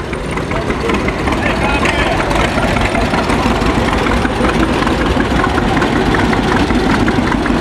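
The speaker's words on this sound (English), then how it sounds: "One of John Deere's smallest 2-cylinders was the H. That's the one going by now." A small John Deere H two-cylinder tractor drives past at a cotton gin festival, its engine giving a loud, steady low chugging throb close by, with voices talking over it.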